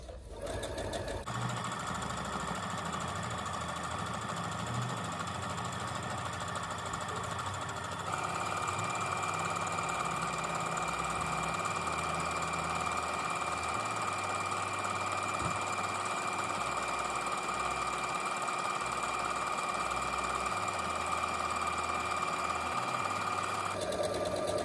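A sewing machine runs continuously while stitching a seam on a filtered surgical-style fabric mask, a close, steady mechanical whir and rapid needle rattle that speeds up slightly partway through.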